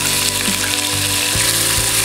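Chopped shallots sizzle in hot oil in a pan, a close, steady crackling fry with a faint stir or two and no voices.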